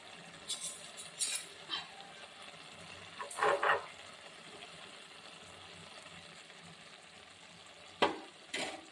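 Steady frying sizzle of fish in a pan, with a few brief clinks and scraping stirs rising above the constant crackle.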